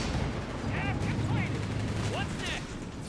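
Dense battlefield gunfire from Company of Heroes 3, a steady wall of rifle and machine-gun shots with low explosive rumble throughout and occasional whistling chirps above.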